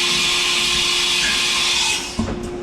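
A 1991 Haas VF1 CNC mill performs a tool change, giving a steady loud mechanical whir with a constant tone that drops off near the end into a brief clunk and settling noise.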